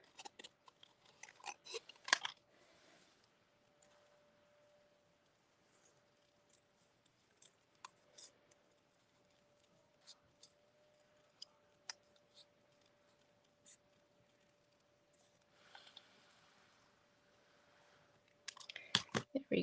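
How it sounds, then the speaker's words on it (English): Scissors snip through paper and cardstock while a card is being cut, giving sparse, faint crisp clicks and rustles with quiet gaps and a thin steady background tone. "I'm just steering the paper and not the scissors."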